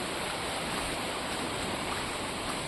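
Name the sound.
river flowing, babbling water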